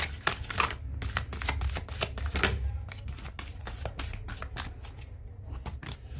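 Tarot cards being shuffled by hand, a steady run of dense riffling and flicking strokes at close range, with no talk over it.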